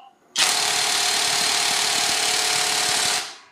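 A Gizam 2800 Nm cordless impact wrench runs at speed 3 with a Makita battery, a loud, steady rattling hammer roar that starts abruptly, holds for about three seconds and then winds down.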